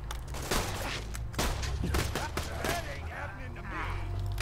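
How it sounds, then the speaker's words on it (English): Gunfire in the Borderlands 2 video game, with several sharp shots in quick bursts over a steady game background, fairly close and loud. "There's somebody shooting me. Oh, two people shooting at me."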